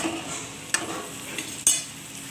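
Soybean curry is stirred in a pan as a spoon scrapes through it, with soft sizzling underneath and two sharper clanks against the metal.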